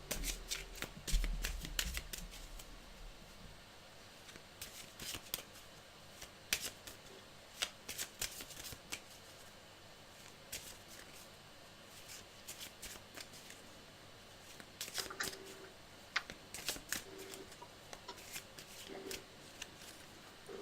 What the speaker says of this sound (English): Okay, we got it shuffled.